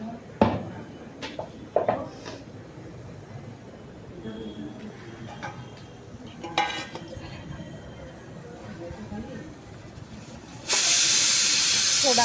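A paratha cooks in Amul butter on a hot pan over a high gas flame, with a soft background hiss and scattered clinks of utensils, then a sudden loud, bright sizzle that continues steadily to the end.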